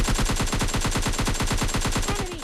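Rapid automatic gunfire from a PUBG Lite match rattles in a steady, dense burst of close shots for the whole stretch, tapering near the end.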